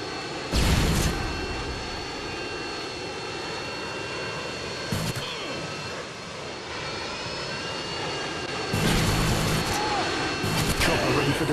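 Harrier jets roar in over a video-game map, a loud sustained engine drone with swelling jet bursts near the start, middle and end, layered under game radio voice lines.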